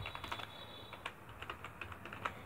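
Fingers tap out a line on a computer keyboard at an R prompt, with quick, light, uneven key clicks heard close and fairly quiet.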